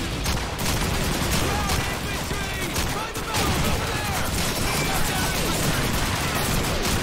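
Dense, continuous gunfire from the World War II shooter game Call of Duty 2, with overlapping rifle and machine-gun bursts forming an unbroken loud barrage and a brief dip partway through.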